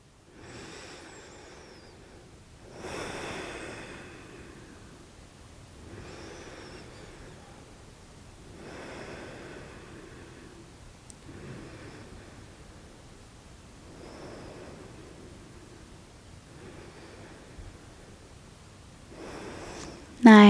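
Slow deep breaths in and out during a yoga stretch, about four or five soft breathy swells spaced a few seconds apart, close and quiet with no talking.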